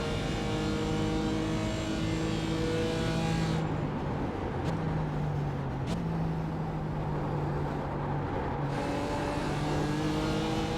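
BMW and Mercedes GT4 race cars circling Sebring, engines droning steadily with shifting pitch and a couple of sharp changes as cars close in, moderately loud and continuous without talk.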